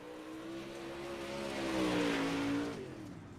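A modified touring race car starting its lap at Volusia Speedway, its engine holding a steady loud drone that swells and rises in pitch as it accelerates past, then eases slightly, heard alone without commentary.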